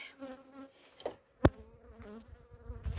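Honey bees buzz around spring apiary hives during rapeseed and orchard bloom, a faint insect hum with a sharp close knock and some background murmur.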